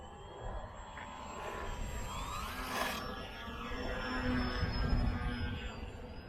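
A small RC FT Scout foam plane fitted with skis taxis on ground with no snow, its electric motor giving a steady whine that rises and falls slightly, fairly distant with broadband outdoor noise underneath.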